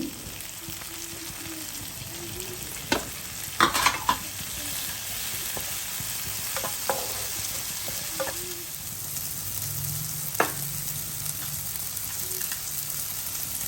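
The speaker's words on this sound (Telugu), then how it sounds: "ముందైతే నేను స్పైసెస్ అనేవి వేసి తాలింపు వేసాను" Spices sizzling in hot oil as a tempering for dal fry, a steady low frying hiss throughout with a few sharp stirring clinks and taps near the start and middle, close and moderately quiet, with no talk.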